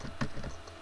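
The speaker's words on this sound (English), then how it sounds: "you're typing and it's really annoying" Typing on a computer keyboard during a Minecraft server gaming session, a short burst of quick soft key clicks with one sharper tap near the middle, close and fairly quiet.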